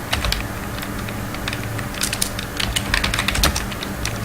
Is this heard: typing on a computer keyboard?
yes